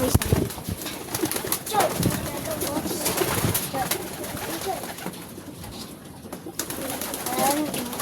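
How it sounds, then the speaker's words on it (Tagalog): Pigeons coo as they are fed, with soft, low coos under a busy flutter of wings and rustling. A person talks quietly now and then. "Ayan, mga ibon natin."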